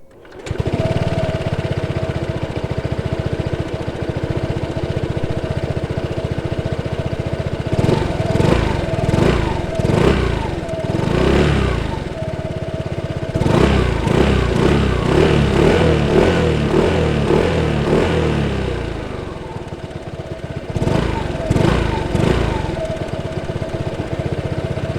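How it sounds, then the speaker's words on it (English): Honda Forza 125 2023 scooter engine runs steadily with a constant mechanical drone throughout, rising and revving in several louder bursts with rapid ticking, close and loud, no talking. "So this is the all-new Honda Forza 125 2023 model year, and we'll take it out for a little spin."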